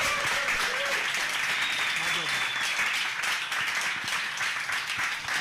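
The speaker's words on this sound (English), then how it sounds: "everybody, round of applause for our guest, Rob Charles" An audience applauds a guest speaker at a live talk event, sustained steady clapping filling the room for several seconds while a host speaks over it.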